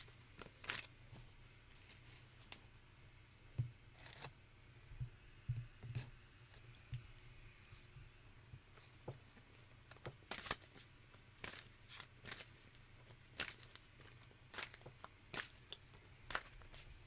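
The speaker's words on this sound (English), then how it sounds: "I'm shuffling for you right now." Tarot cards shuffled by hand in a quiet room, producing scattered soft slaps and riffles spaced irregularly throughout, faint and close with a low steady hum underneath.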